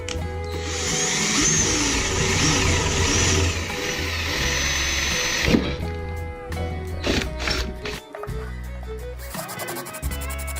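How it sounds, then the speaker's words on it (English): A power drill bores into a Bradford pear wood platter, whining loudly and steadily for several seconds before stopping, followed by scattered clunks and bursts of workshop noise. "That was drilled out."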